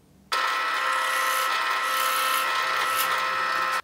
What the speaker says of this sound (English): I will also add a little chamfer on the bottom hole.